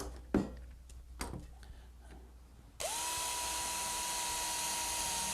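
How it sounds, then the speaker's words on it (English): A power drill bores a hole through a wooden bucket, starting abruptly partway in and running loud and steady to the end after a few scattered knocks and handling sounds. "And now I'm going to drill a hole,"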